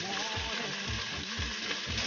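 Chicken sizzles and fries in a pan with onion and ginger, a steady close crackle with soft rhythmic scraping of stirring, no talk.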